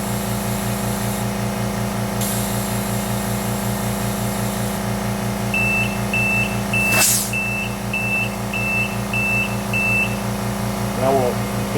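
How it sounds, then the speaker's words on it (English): A digital tire inflator gives a steady series of about nine short electronic beeps at an even pace, signalling it has reached its set pressure, over a constant mechanical hum and rhythmic pulsing. "The digital air unit will beep to indicate we reached the set point."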